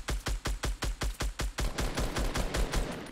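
Rapid gunfire in Fortnite Battle Royale, a tight burst of about a dozen evenly spaced, punchy shots at close range, the later ones overlapping with more shots and impacts.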